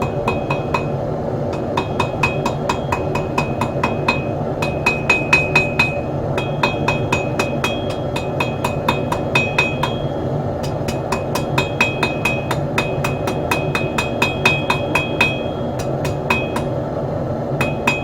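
A hammer taps metal in quick, bright metallic clinks, steady bursts of strikes repeating close by over a low background hum, with no talking.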